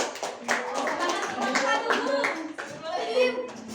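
Pupils in an elementary classroom clap together during an Islamic studies lesson, giving a few bursts of rhythmic, close hand clapping mixed with children's voices.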